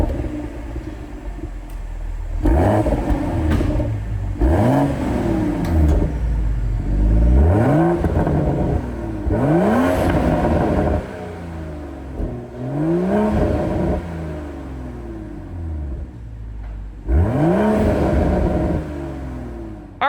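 A 2023 Toyota GR Supra 3-liter's exhaust revs repeatedly, each rising roar dropping back to a deep burbling idle before the next blip, loud and close.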